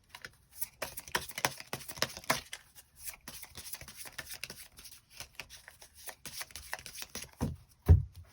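Tarot cards shuffled and drawn by hand: a run of soft, quick papery riffles and slaps, close and fairly quiet, ending with a heavier thump as a card is set down.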